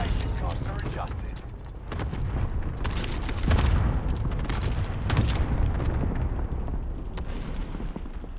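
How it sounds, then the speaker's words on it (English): Repeated booming cluster-strike explosions rumble through a Call of Duty: Fortune's Keep Resurgence match, thudding one after another under a busy mix of game announcer voice and chatter. "Allied cluster strike arrived."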